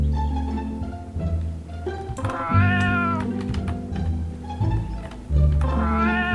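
A video game cat meows several times in a row, clear and fairly loud, over a low steady background drone, with no talking.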